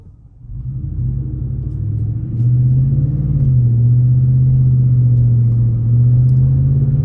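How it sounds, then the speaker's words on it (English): Ford F150 with a 5.0 V8 and Flowmaster 40 exhaust pulling away from a stop: a loud, close, deep rumble rises and then holds steady as it accelerates through the gears, with no talking. "as it goes shifting up gears, it gets a little quieter and quieter"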